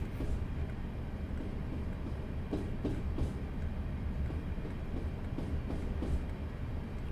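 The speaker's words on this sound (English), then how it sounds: "we'll just let the locomotive do the work for us." Locomotive rolling downhill in Train Simulator Classic, a steady low rumble of wheels and running gear with faint intermittent clicks and rattles, moderately quiet and continuous without speech.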